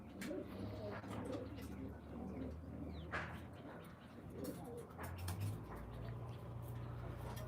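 Large pigeons in a Malwa pigeon-keeping loft coo in low, throaty, continuous rolls close by, several birds overlapping with soft chirps scattered through.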